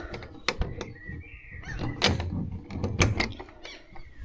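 A camper van's sliding door mechanism runs with a short squeaking slide and several sharp knocks and thunks, close and fairly loud, with no talking.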